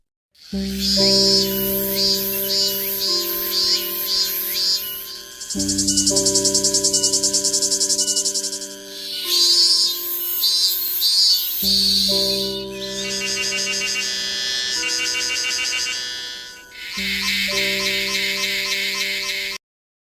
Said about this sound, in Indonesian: Mereka hingga menjadi dengungan yang bisa mencapai 100 desibel, setara dengan suara gergaji mesin.